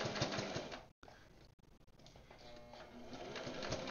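A sewing machine stitches a belt pocket, running in close buzzing bursts with a couple of abrupt stops and restarts.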